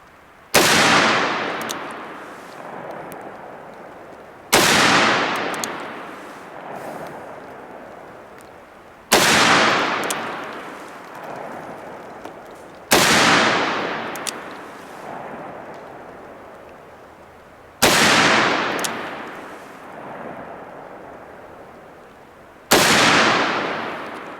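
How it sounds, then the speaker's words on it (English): A Ruger GP100 Match Champion revolver fires .357 rounds single action at a range: six loud, sharp shots spaced about four seconds apart, each with a long echoing decay. "I'm going to shoot these single action and see if we can work our accuracy a little bit."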